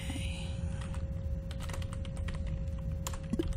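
Rapid clattering keystrokes from commands being typed in the video game Duskers fill the moment, dense and continuous over a steady electronic hum, with no voices.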